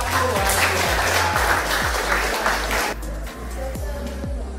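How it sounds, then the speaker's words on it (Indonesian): Students at SMA Negeri 1 Wedung clap for group one during a high school history class: a dense burst of applause over a low room rumble that drops off partway through, leaving quieter scattered sound. "Tepuk tangan untuk kelompok 1."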